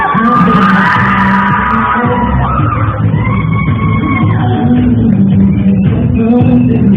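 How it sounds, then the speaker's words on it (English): Loud crowd cheering, yelling and whooping in a university auditorium at the University of Wyoming, sustained at a steady high level for the whole stretch with no pause and individual shouts rising out of the roar. "the crowd is cheering"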